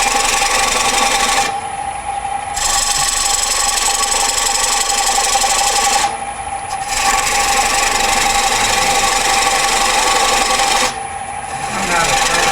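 A log being turned into a bowl on a wood lathe, with a 1/4 inch bowl gouge cutting the spinning wood. The rasping scrape is loud and steady, and it breaks off briefly three times.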